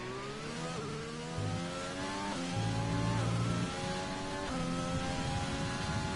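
A race car on soft tyres laps the Bahrain circuit in a racing video game, its engine whining through rising gears with distinct shift drops and renewed climbs, steady and fairly close.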